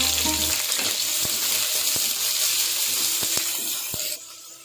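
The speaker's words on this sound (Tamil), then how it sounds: "கொஞ்சம் நல்லா பொன்னிறமாக செவந்து வர வரலும் ஃப்ரை பண்ணுங்க." Onions, green chilies and curry leaves fry in hot oil with a steady, close sizzle, broken by a few sharp clicks of stirring, before the sizzle drops off abruptly near the end.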